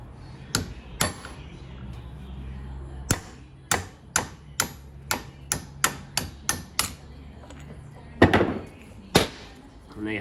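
A hammer strikes a socket while fitting a thrust bearing during an R33 Skyline manual conversion: a dozen or so sharp metallic blows at irregular spacing, some in quick runs, with faint rustling between hits.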